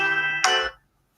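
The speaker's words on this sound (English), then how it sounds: "sorry that my phone went off" A mobile phone ringtone sounds loud and close for under a second, a bright tonal chime that swells and then cuts off abruptly, leaving silence.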